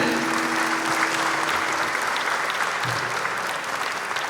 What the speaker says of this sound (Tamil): ஒரு பலத்த கைத்தட்டலுடன்